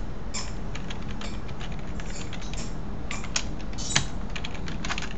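Steady typing on a computer keyboard while entering code, a continuous run of quick clicky keystrokes with a few sharper taps standing out, close and fairly quiet with no talking.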